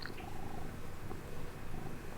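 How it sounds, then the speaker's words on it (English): A house cat purrs close by, a steady low rumbling purr with soft rhythmic pulses running through the whole stretch, and no voices over it. "here we got a little kitty interruption here"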